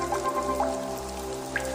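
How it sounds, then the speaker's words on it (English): Rain drips and patters on leaves in a hummingbird habitat, with scattered distinct drops over a steady wet background hiss. "Unlike insects, hummingbirds seem to relish the rain."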